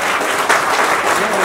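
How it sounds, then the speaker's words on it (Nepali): Audience applause breaks out in honour of a man at a Nepali minister's public event, a dense, steady wash of many hands clapping that holds evenly for the full moment, with a slight lift partway through. "एकचोटि उहाँलाई सम्मान साथ ताली बजाइदिन्छु"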